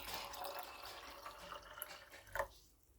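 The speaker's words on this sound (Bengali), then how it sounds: "একটু জল দিয়ে দিই এবার।" Water poured onto potted plants, a soft trickling splash heard close and faint, fading out near the end.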